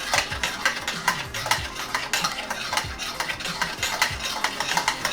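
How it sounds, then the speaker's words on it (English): An emulsifier and gelatin mixture is stirred in a pot until it dissolves, giving a quick, steady run of scraping and clinking utensil strokes against the container, close and fairly loud, with no talking. "we are going to stir this until it all dissolves"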